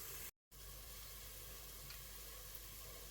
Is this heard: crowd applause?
no